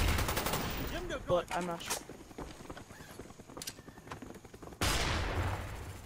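Gunfire from Call of Duty: Black Ops, with sharp broadband shots scattered through the clip and a loud burst near the end, mixed with game sounds and someone talking over it.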